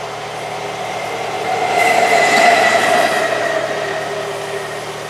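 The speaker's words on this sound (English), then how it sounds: "Both road and rail make this quite a noisy position" A train rumbles past nearby on the outskirts of Banbury, England, close to a road, its steady roar swelling to a peak midway and then slowly fading, with no voices.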